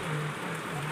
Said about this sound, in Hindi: आज बहुत भयंकर बारिश हो रही है।